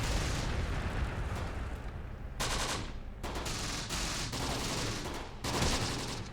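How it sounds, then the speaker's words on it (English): Gunfire in the WWII battle game Close Combat The Bloody First, set in the Italian hills: sustained machine-gun bursts and rattling volleys over a rumbling battlefield din, loud and continuous with sharp repeated salvos. "They just returned fire, hitting the BAR team."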